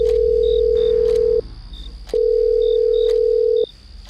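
A mobile phone ringback tone plays as a sound effect for a call, sounding as two long steady electronic beeps separated by a pause, clear and close.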